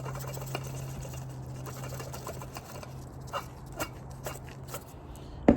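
A worn, nearly failing coolant pump from a 2015 Porsche spun by hand: a faint, steady low hum with scattered light clicks and taps, ending in a sharper knock.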